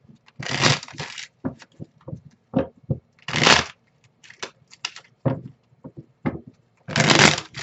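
Tarot cards are shuffled close up in bursts, loud rustling riffles alternating with short sharp slaps and taps of the cards, with brief quiet gaps between.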